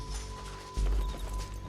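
Horse hooves gallop in Red Dead Redemption 2, a steady low rumbling patter of hoofbeats that swells louder midway, with brief shouts and game noise mixed in.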